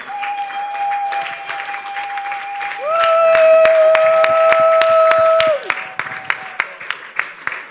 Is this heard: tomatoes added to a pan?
no